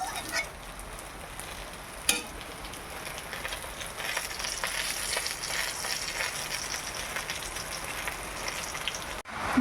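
Pre-fried rohu fish pieces go into a hot pan of oil and set off a broad, steady sizzle that runs close and fairly loud for several seconds, with a sharp clack near the start and a brief break near the end.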